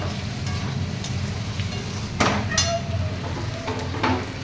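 Bengali spice paste frying in a pan as it is stirred, a close steady sizzle broken by a few sharp scrapes and clinks of the spoon against the pan.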